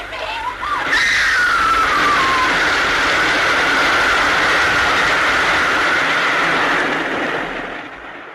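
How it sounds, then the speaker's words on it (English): A passing train as a sound effect in a 1950s radio drama: a loud, sustained rushing roar with a screeching whistle-like tone that falls in pitch, swelling quickly and fading slightly at the end. "Oh, there's a train coming."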